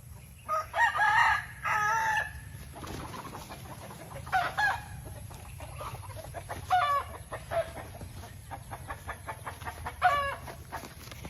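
A rooster crows several times nearby amid clucking chickens, over a constant low hum in the background.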